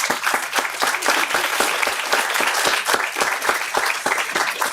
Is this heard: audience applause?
yes